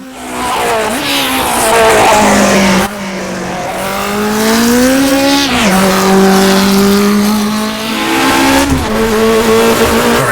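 A 1960s Formula 1 car in the rFactor 2 racing sim, its engine howling and rising through the gears, dipping briefly on shifts and lifts, loud and close throughout.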